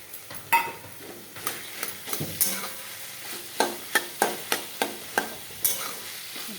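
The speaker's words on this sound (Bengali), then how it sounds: "ভালো করে ভাজা ভাজা হবে পেঁয়াজটা" Onions fry in a pan with a steady low sizzle, broken by a series of sharp scraping stirs that come in a fairly regular rhythm.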